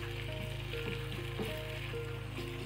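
Chili paste frying in a pan with steady, close sizzling and crackle, stirred continuously without pause, with a low background hum running under it and no talking.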